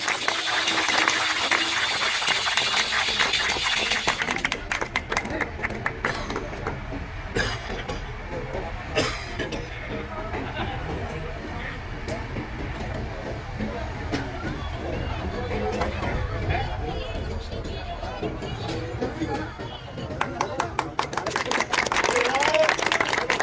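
An outdoor crowd at a Holi village gathering breaks into loud, sustained clapping to honor a guest, the applause swelling and fading amid crowd chatter and someone speaking over a microphone.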